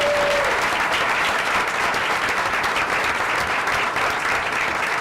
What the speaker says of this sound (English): if we could give a big round of applause to these directors who give of their time to be part of this